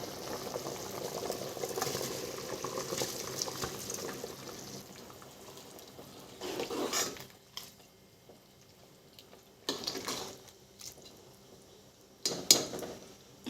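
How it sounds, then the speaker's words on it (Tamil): Water at a rolling boil in a pot for vegetable biryani as soaked rice goes in, a steady low bubbling broken by three short clattering bursts of rice and utensil against the metal pot, with no talking. "தண்ணி நல்லா கொதிச்சு வந்துருச்சுங்க இப்போ ஊற வச்ச அரிசியை வந்து நம்ம இதில் ஆட் பண்ணிக்கலாம்"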